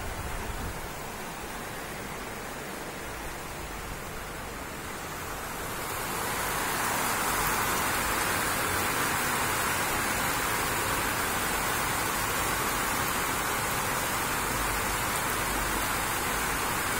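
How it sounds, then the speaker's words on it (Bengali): Rain falling outdoors on a dark, overcast day: a steady, even hiss of rain that swells noticeably louder partway through and then holds as a dense, continuous wash with no voices. "বৃষ্টি পড়তেছে রে"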